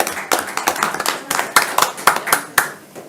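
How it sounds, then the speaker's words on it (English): A dense round of applause fills a county board of commissioners meeting as people clap for a graduating class, with sharp overlapping hand claps rising and falling close by, and no talk. "please join me in a round of applause"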